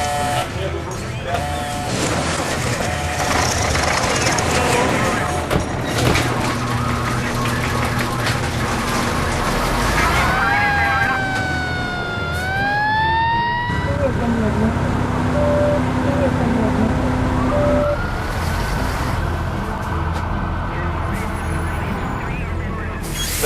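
Ventura fire engine 55 arriving at the scene of a pedestrian struck by a vehicle, its siren sweeping up and wailing over idling engines and road traffic, with short horn blasts and a voice faintly in the background.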